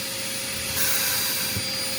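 A vacuum cleaner runs continuously during cleanup of a messy cold air return in a two-story house, a loud, steady roaring whine, close up with no talking.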